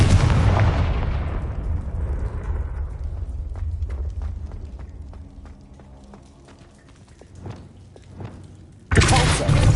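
A Confringo fire-blast spell explodes in Hogwarts Legacy, a loud booming burst that rumbles and fades over several seconds, followed by scattered clatter and impacts, then another loud blast near the end.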